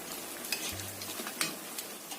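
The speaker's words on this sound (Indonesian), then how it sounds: "Kita goreng yang selanjutnya." Oil sizzles and crackles steadily as bakwan vegetable fritters fry in a pan, with a few sharper pops and a brief low hum partway through.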